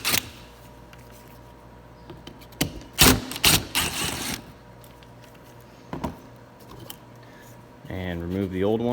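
Phillips screws being backed out of a rear bumper reflector on a 2018–2019 Honda Accord, heard as a few scattered clicks and scraping bursts of driver work, with a louder cluster of rattling near the middle and a muffled shuffle at the end.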